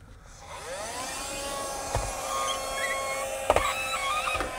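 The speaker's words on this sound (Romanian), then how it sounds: "folosim scula asta mică să absoarbă, că e și cu aspirator" A small handheld cordless vacuum tool draws condensation off a fogged van windshield while camping, its steady motor whine rising as it starts, with faint squeaks and brief knocks as it slides across the glass.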